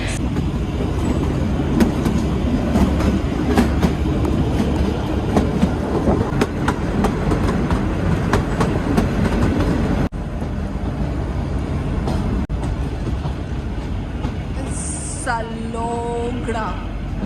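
The Kalka-Shimla toy train runs on its narrow-gauge mountain rails with a steady rumble and rhythmic clickety-clack of wagons, loud and close throughout, and a brief whistle-like tone near the end.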